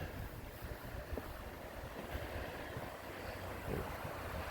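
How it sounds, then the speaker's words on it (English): Yale River water still running after flooding at Bee Rock, Kentucky, gives a steady, even broadband rush with some wind buffeting on the microphone and no voices. "Water in Yale River is still flowing, but it's way down what it was during the floods."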